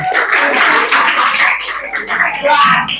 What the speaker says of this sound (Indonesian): Tepuk tangan buat semuanya ya